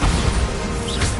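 A Bombarda explosion spell erupts in the video game Hogwarts Legacy, a loud, dense blast of crashing, rumbling debris that fills the whole moment with steady low-end force.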